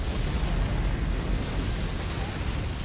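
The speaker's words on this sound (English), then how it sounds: "And this delayed ground explosion still get me almost every time" A delayed ground explosion from the dragon boss Bayle in the Elden Ring DLC video game, a sustained, loud, broadband roaring rumble with heavy low-end that holds steady for about three seconds with no voices.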